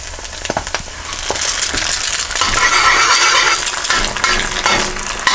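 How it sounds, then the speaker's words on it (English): A guinea egg fries in a pan, opening with a few sharp clinks and cracks before a loud, steady crackling sizzle settles in up close, with no talk. "I'm going to go ahead and put the guinea egg in there"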